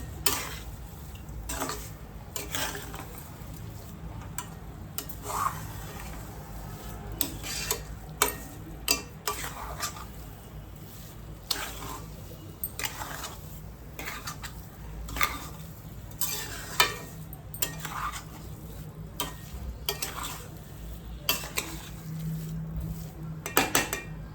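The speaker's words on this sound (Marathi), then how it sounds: "घालून चांगला मिक्स करून घेऊया" Sheera, a sweet semolina prasad with ghee and sugar, stirred in a pan: long continuous scraping and rhythmic clinks of a spoon against metal, with a faint sizzle underneath, close and steady throughout without speech.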